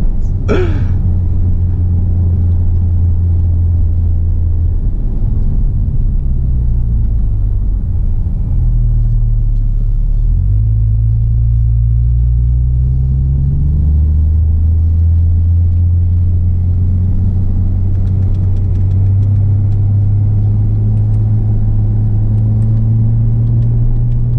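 A 2017 Porsche 911 Turbo S engine drones as a low, steady rumble from inside the car while driving, with the pitch shifting slightly as the revs change and no speech.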